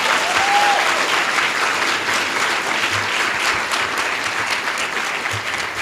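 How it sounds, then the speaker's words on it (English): Sustained applause from an audience at a town hall meeting after a panel discussion, dense and steady throughout with no break. "please give them another round of applause"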